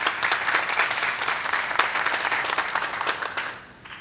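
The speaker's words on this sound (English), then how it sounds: "so a nice round of applause for her as well." Audience applause at a master's graduation ceremony: dense, fast clapping from many hands that holds steady, then thins out and fades over the final half second.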